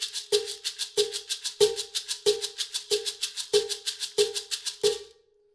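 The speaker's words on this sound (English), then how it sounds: "get that swish in the maraca" Eight evenly spaced cowbell clanks from a maraca/cowbell pedal, each followed by a quick swishing maraca shake, play in a steady rhythm and then stop.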